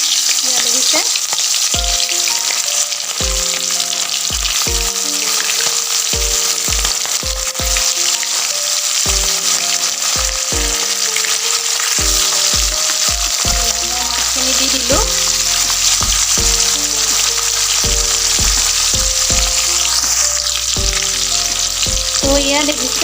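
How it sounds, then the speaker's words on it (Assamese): Fish frying in hot oil for an Assamese fish curry, a loud continuous sizzle that runs throughout, close and steady, with rhythmic low knocks from music or tapping underneath. "তেলটো গৰম হৈছে তো মই এতিয়া মাছ দি দিম"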